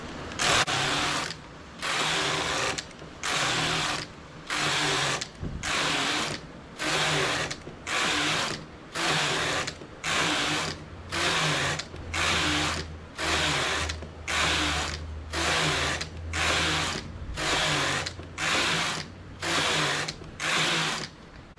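Knitting machine carriage sweeping back and forth across the needle bed for 24 rows of ribbing, a steady series of loud rattling, ratcheting passes separated by brief pauses, close and alone with no talk.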